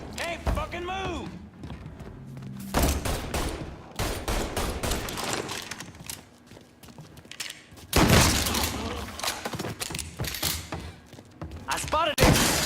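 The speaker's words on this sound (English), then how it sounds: "He's gunning us down!" Volleys of gunfire in Mafia 3 rattle in bursts between stretches of shouting voices, with loud flurries of shots around the start and end and thuds mixed in.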